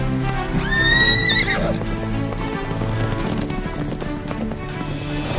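A cartoon horse in a 3D animated Vietnamese fairy tale gives a loud, rising whinny near the start, then a steady run of clip-clop hoofbeats carries on under a soundtrack to the end.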